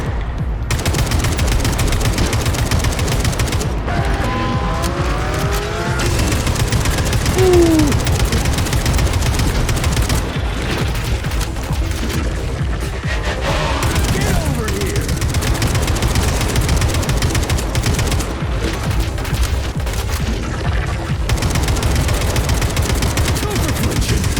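Kalashnikov rifle fire in the game Atomic Heart, loud sustained automatic bursts running almost without a break, with occasional voices under the gunfire.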